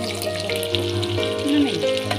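Eggplant frying in hot oil in a village kitchen, a steady sizzle running under tonal background sounds, with no talk over it.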